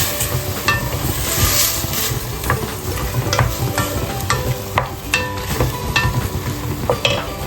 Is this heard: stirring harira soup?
yes